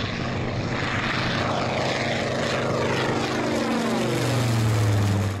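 A propeller-driven World War II warplane, tied to Mitsubishi, drones loudly and steadily overhead, its engine tone rising and shifting in pitch as it passes close by, with no voices.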